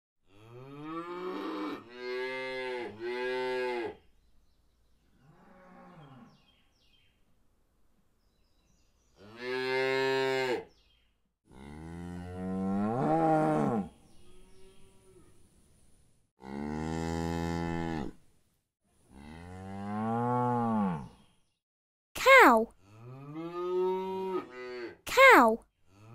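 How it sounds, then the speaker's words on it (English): A cow moos again and again, close and loud. About eight long, drawn-out lowing calls come one after another with short quiet gaps between them. "Cow."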